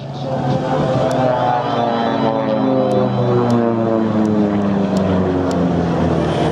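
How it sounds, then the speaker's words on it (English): WWII P-47 Thunderbolt fighter making a high-speed pass at a seaside air show in Clacton-on-Sea, Essex: a loud, steady radial engine roar with a shifting propeller drone, sustained throughout. "a high-speed pass there from the P-47 Thunderbolt Nelly, centre stage here, flying up high above us"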